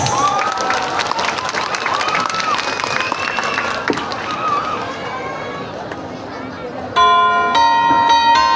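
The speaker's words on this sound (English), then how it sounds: "Once again, let us give them a big round of applause." Crowd at the opening of the lights at a Christmas village in Dumarao, Capiz, applauds and cheers under voices, before festive music with chiming bells starts loud near the end.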